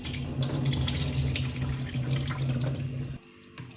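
Running tap water pouring steadily as flattened rice is rinsed clean for homemade dosa, a close continuous splashing that cuts off near the end.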